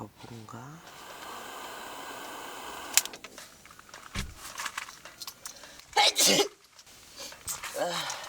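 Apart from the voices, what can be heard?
person sneezing in tent while camping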